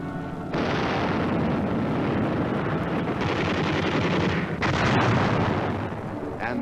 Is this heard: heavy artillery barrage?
yes